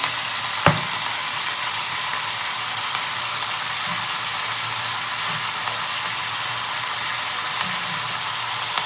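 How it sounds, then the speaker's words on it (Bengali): Onion flower stalks frying in oil in a pan give a steady, even sizzle throughout, with a single sharp utensil clink near the start and faint stirring scrapes later. "পেঁয়াজ কলিটা ভাজা হতে হতে একটু টাইম লাগবে"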